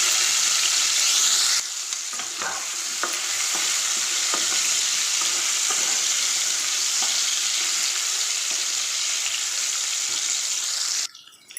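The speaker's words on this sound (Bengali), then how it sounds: "তেল দেওয়ার পরে আমি আলুটাকে লাল লাল করে ভেজে নেব।" Potato pieces fry in hot oil in a wok, a loud, steady sizzle running continuously with a few stirring scrapes and clinks, and the hiss cuts off abruptly at the end.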